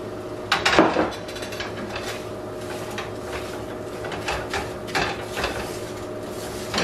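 A flour and butter mixture being stirred in a pan for a homemade macaroni and cheddar casserole, with clinks and scrapes of a utensil against metal over a low steady kitchen hum.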